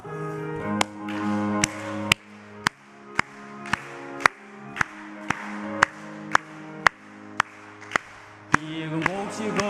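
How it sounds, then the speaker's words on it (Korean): Congregation in a Korean church worship service clapping in steady unison along with a sung hymn, sharp regular claps every second or so over voices singing with accompaniment. "찬송가 495장 다 같이 박수 치면서 찬송하겠습니다"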